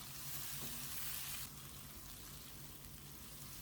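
Lemongrass, galangal and bay leaves frying in a pan for sambal goreng krecek, a steady close sizzle that drops slightly in level partway through, with no talking.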